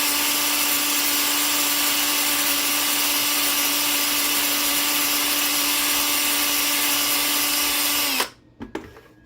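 A power drill buffing a piece whirs steadily at a constant pitch for several seconds, then cuts off abruptly, followed by a few faint clicks and rattles.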